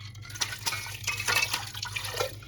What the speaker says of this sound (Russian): Для этого воду наливаем немножко, лучше ледяную, прямо со льдом.